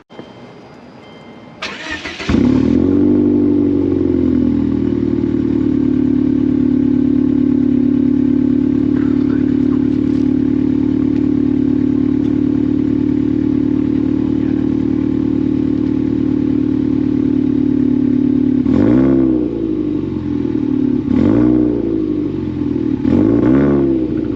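A 2005 Subaru Legacy GT wagon engine cranks and catches, settles into a loud, steady idle through its exhaust, then near the end is revved three times, each rise and fall clearly heard close up.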